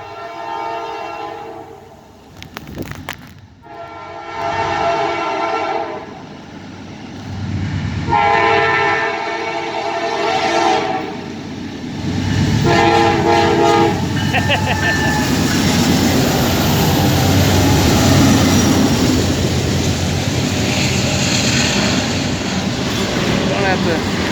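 A Norfolk Southern diesel stack train passes through Spartanburg, South Carolina, sounding its horn in several long blasts before a loud, sustained roar and rumble of the engines and cars close by. Voices talk briefly near the start.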